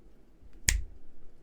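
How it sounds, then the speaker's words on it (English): A single crisp finger snap, close and sharp against a quiet room. "I could just snap my fingers just like that"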